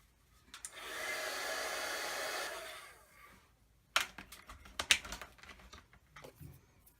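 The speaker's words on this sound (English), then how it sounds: "I just sort of ran my heat gun over it and it didn't fly off" A heat gun blows a steady rush of hot air over a handmade card for about two seconds, then cuts off, followed by a few close clicks and handling taps.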